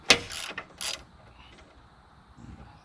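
A ratchet loosens a bolt on a Ford OBS truck bumper, heard as a few short, sharp metallic clicks and rasps close by at first. Quieter faint mechanical rattling follows.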